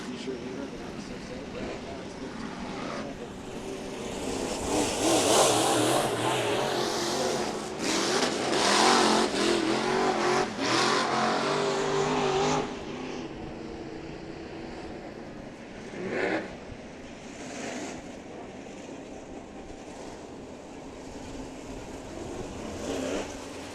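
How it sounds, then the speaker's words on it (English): An IMCA modified race car pulls out of the pits at a Santa Maria Raceway nationals event, its engine revving loudly past and then fading into the distance while an announcer talks over it. "So Thornton back out of the pits and heading away"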